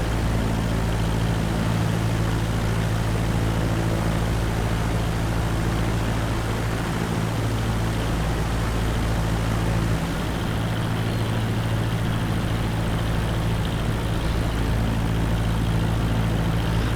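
A light aircraft's propeller engine drones steadily and loudly from inside the cabin as it overflies an airport near the coast, a constant low hum with no speech.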